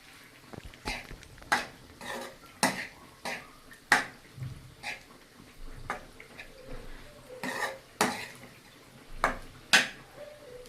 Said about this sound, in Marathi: आता बटाटा मी ह्याच्यामध्ये टाकून चांगला मिक्स करून घेते.